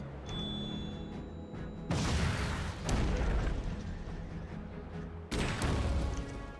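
Mech weapons opening fire on tanks in the Chromehounds video game, with heavy booming blasts hitting in bursts over a rumbling battlefield, three big impacts standing out, loud and close.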